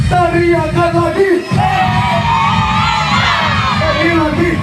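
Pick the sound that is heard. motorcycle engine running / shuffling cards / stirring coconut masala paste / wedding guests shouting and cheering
wedding guests shouting and cheering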